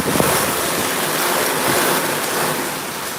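Heavy rain pouring down with gusting wind, a dense, steady broadband roar that stays close and loud throughout with no voices.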